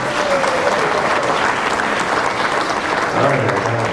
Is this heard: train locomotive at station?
no